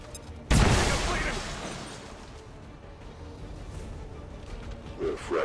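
A grenade goes off in XCOM 2, a sudden loud blast whose rumbling decay fades over a few seconds beneath a steady game backdrop.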